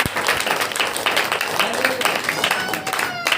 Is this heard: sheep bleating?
no